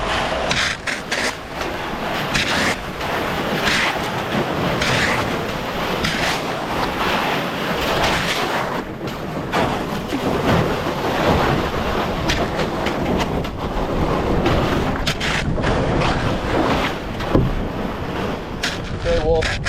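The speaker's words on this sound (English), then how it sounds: "we gotta bust through this ice now." A canoe breaking through lake ice: continuous crunching, scraping and splashing with irregular knocks, loud and close, with voices talking over it.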